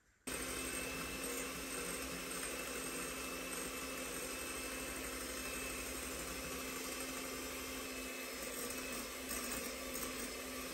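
An electric mixer beating cake batter with vanilla until pale, a steady droning whir held at even loudness throughout with no talk.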